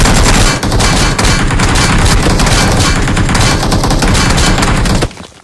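Dense, continuous bursts of rapid gunfire and booms in BGMI, very loud and relentless, cutting off abruptly near the end.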